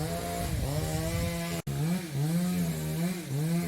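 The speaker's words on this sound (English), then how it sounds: "It's the sound of people chopping wood." A chainsaw-like engine cutting wood outdoors at Kedungombo, close and loud, its whining pitch rising and falling as the blade works, broken by a brief instant of silence partway through.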